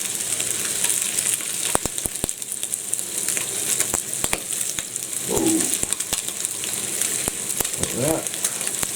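Ham and sausage pieces frying in a pan for an omelette, a steady close sizzle throughout with a few sharp clicks of stirring, brief murmurs of talk now and then.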